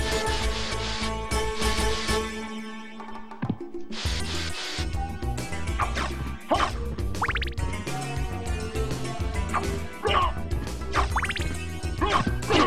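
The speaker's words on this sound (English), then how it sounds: "Did I just make like a crying dog sound?" A whimpering, crying dog-like sound from the Castlevania: Symphony of the Night video game, heard amid dense game music and effects, with short yelping bursts rising over the busy soundtrack.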